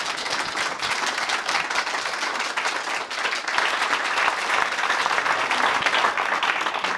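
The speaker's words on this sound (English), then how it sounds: "Let's give them a big round of applause." An audience at a talk gives a sustained round of applause, with dense, steady clapping from many people that holds for several seconds and swells slightly toward the end.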